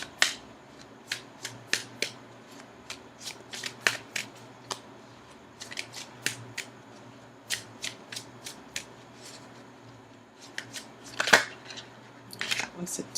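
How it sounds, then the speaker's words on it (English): Tarot cards shuffled by hand in a quiet room, a run of sharp crisp riffles and snaps spread irregularly over several seconds, close and fairly soft, with brief speech in places. "Now I'm going to go ahead and shuffle for an outcome card."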